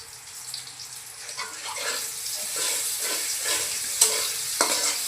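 Onion and chopped garlic frying in oil, a close crackling sizzle that builds with spoon stirring and a couple of sharp clinks near the end.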